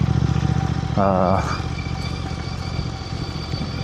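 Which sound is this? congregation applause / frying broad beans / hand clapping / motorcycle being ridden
motorcycle being ridden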